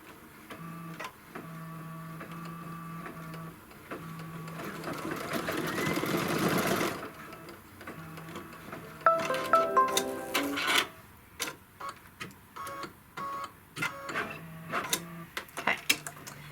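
Computerized embroidery machine stitching a leaf outline for a poinsettia design, its steady needle patter running for long stretches with rhythmic ticking and a short louder burst midway, recorded close with no talk.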